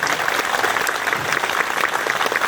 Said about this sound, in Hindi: और ताली बजा दो